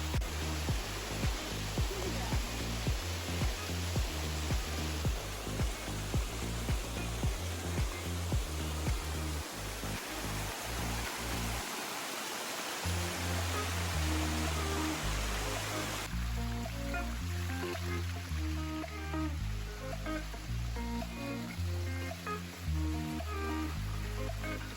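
A Thailand waterfall pours down in a steady, broadband rush that fills the whole clip at close range, with no voices.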